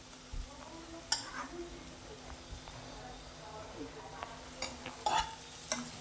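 Vegetables and Maggi noodles are stirred together in a pan, with scattered scrapes and clinks of a spoon over a soft background sizzle, and a voice faintly present now and then.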